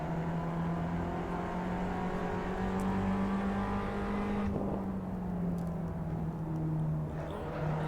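Abarth car engine in the Assetto Corsa racing game, droning steadily and loudly through the whole stretch with a sustained hum that dips slightly midway as throttle eases.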